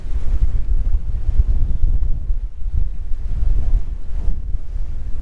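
Strong wind of about 25 knots buffets a sailboat riding at anchor, a loud continuous roar of gusts and rumbling microphone buffeting with no voices.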